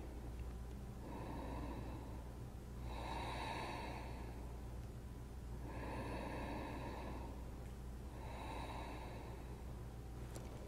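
Slow, deep yoga breathing during a seated flow, with four long rhythmic inhale-exhale cycles, soft and close, heard without talk over a faint background hiss.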